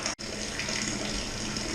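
Strike water pours into a home brewing kettle for a wheat beer batch, a steady close gushing stream with a brief cut near the start.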